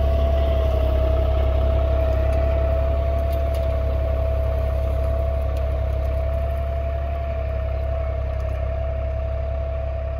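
A tractor engine runs at a steady idle-like drone while pulling an MB plough through a wet field, a loud low rumble with a constant tone and no speech.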